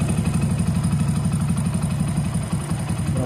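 A motorcycle engine idles steadily while its carburettor is adjusted, giving a close, even low putter with a regular pulsing rhythm and a faint mechanical clatter, with a slight dip late on.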